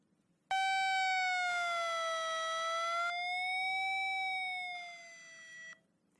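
A Desmos audio graph sonification tone, a loud sustained pitched tone with rich harmonics that slowly glides down and back up in pitch over about five seconds before cutting off, alone without talk.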